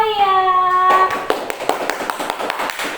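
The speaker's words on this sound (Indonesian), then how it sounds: "Tepuk tangan untuk Hawaya." Students in a classroom clap for a classmate, a brief burst of close, uneven hand claps that starts right after a sustained spoken tone and continues for a couple of seconds.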